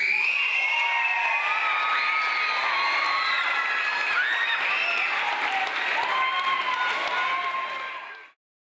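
Spectators at a swim meet cheer and applaud steadily, a dense wash of clapping and high excited shouts from a crowd, holding loud for several seconds before cutting off abruptly.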